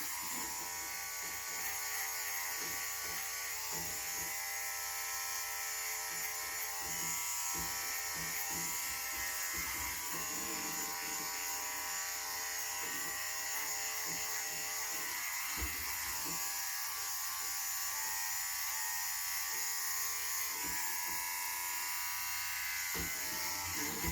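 Electric hair clippers buzzing continuously while trimming hair around the sideburns during a home haircut, a close, steady hum with small shifts in pitch as the blades move through hair, no speech.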